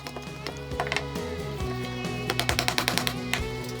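A chisel chopping a square mortise into wood, with a run of sharp, close knocks and clicks that quicken into a rapid rhythmic series of strikes over a steady machine hum.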